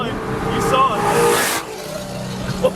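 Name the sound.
car accelerating past, exhaust burp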